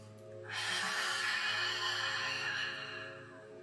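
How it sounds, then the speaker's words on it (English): A steady, breathy rush of air like a long, throaty exhale from ujjayi yogic breathing through a gently constricted throat, held for about three seconds with a soft low hum underneath. "That is ocean breath, that deep yogic breath where you gently constrict the back of the throat"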